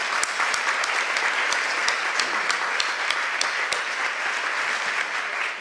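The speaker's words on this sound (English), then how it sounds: "So let's give them all a round of applause." An audience at a breast cancer awareness luncheon claps warmly, with a thick, continuous patter of many hands at a steady loudness for over five seconds and no speech over it.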